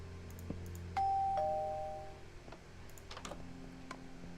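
A two-tone electronic doorbell chime in Minecraft rings once, clear and bright, with soft clicking and faint background hum around it.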